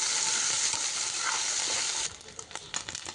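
Shrimp sizzling loudly in hot oil in a pan, a steady dense frying hiss that cuts off abruptly after about two seconds, leaving quieter crackles and small clinks.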